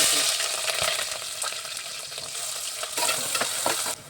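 Onions fry and sizzle in hot oil with cloves and cinnamon in a pan for goat head curry, a steady bright hiss broken by occasional stirring scrapes, close and alone.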